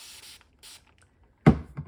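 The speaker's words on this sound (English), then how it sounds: "spray some water on it and clean it up" A spray bottle spritzing water onto a paint brush gives one short, close burst of hissing mist after faint earlier sounds, with no talking.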